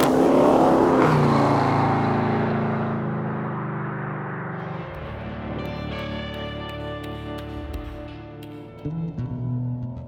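A Dodge Challenger Demon with an 840-horsepower 6.2-liter supercharged V8 revs loudly and up close, its roar falling away into a lower rumble before a short burst near the end.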